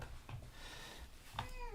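A cat meows indoors with two short calls, one near the start and a louder, rising one near the end, against quiet background hum.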